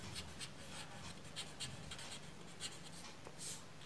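A pen or pencil writes by hand on paper in short, soft scratching strokes, close and quiet, with no talking.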